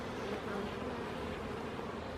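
Honeybees buzz in a steady, dense hum as a hive is opened for its first spring inspection, with the frames stuck together by propolis; the swarm drone is continuous and close, with no voices.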